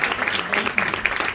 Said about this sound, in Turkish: Kocaman bir alkış Mustafa abi